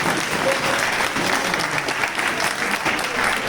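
An audience at a Hindi poetry gathering (kavyanjali) claps steadily and fairly loudly, a dense continuous applause filling the room with faint crowd murmur beneath.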